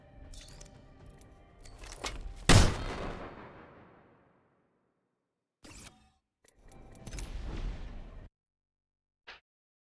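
A frag grenade explosion and bursts of gunfire in Apex Legends: a sharp booming blast that decays away, followed after a gap by a rattle of shots and a final short crack.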